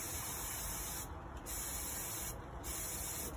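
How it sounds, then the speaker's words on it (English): A spray can lays a second coat over a glitter tumbler, giving a steady close hiss that keeps going with two brief dips and no talking. "So I'm gonna spray again,"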